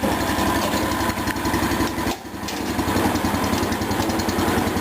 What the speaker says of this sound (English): I can only hear a slight whine of the transmission.